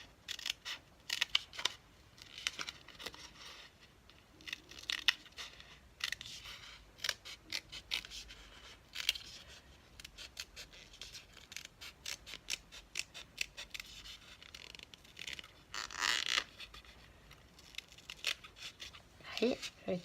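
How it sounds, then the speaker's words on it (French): Scissors snipping the small rim off a paper cup, a long series of close, crisp cuts in uneven bursts, with a voice speaking now and then between the snips. "On va découper aussi là le petit rebord pour avoir quelque chose de"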